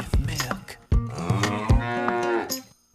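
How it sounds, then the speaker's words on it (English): A cow moos within a Simpsons song, several long, loud, tonal lowing calls broken by short gaps and sharp percussive hits, close and clear with no talking. "Excuse me while I talk to this cow that is grazing."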